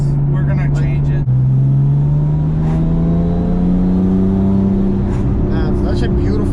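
A 1000 HP tuned Porsche 997 911 Turbo accelerates from inside the cabin, its engine note rising steadily and loudly in one long continuous pull, with voices faintly audible in the background.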